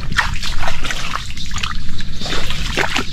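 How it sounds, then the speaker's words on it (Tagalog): Water trickles and splashes out through a hole with a continuous gurgling, sloshing flow. It sits close and fairly loud, with a little background noise and no clear talk. "Ayan ang tubig oh"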